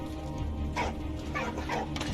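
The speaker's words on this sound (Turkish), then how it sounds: "Geri zekalı köpek." A dog in the video game Valiant Hearts: The Great War gives short whimpers and yips, a few high plaintive cries over a steady game background of rumbling sound.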